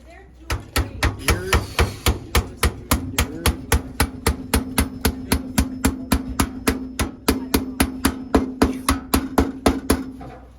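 A big hammer strikes repeatedly in a steady, even rhythm, about three blows per second, each a sharp, close, solid thud with no pause for about ten seconds.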